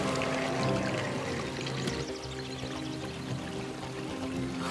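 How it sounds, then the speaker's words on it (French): Water flows in a cartoon stream, a steady, fairly close rushing pour with a music bed underneath. "c'est le ruisseau de Clearwater, n'est-ce pas?"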